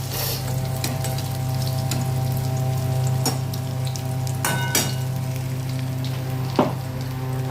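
Crushed whole spices sizzle steadily in hot oil for a Bengali tempering, a close, continuous frying hiss with a few sharp pops and crackles and no talking.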